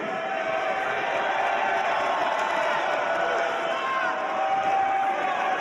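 A wrestling arena crowd roars and cheers continuously, a dense loud wash of many voices with no clear chant rhythm standing out.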